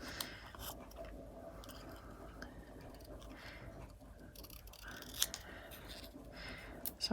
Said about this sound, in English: So I'm just cutting over here to get all of the